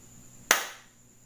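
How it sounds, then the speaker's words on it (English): A single sharp clap from one person, close and crisp, quickly decaying into quiet room tone, ending a teacher's online lesson. "Let's give ourselves a one big clap"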